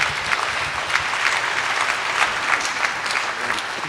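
Audience applause welcoming artist Kerry James Marshall at an evening talk, a dense, steady burst of clapping from a large crowd filling the room, loud and even for a few seconds with no voices over it.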